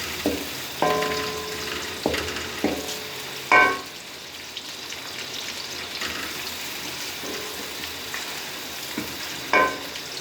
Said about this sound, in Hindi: प्याज हमारे हल्के फ्राई हो चुके हैं